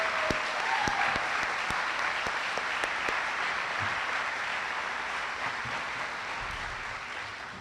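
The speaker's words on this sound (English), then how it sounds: "Let us all applaud our dedicated, tireless, and joyful Wellington educators." A crowd at a Wellington graduation commencement ceremony applauds its educators with sustained, dense clapping that holds steady for several seconds and then slowly tapers, with scattered louder individual claps standing out.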